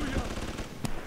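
Turret gunfire in Bioshock 2 cracks out in two sharp bursts over a busy, rumbling game soundscape, fairly close and loud, with no talking.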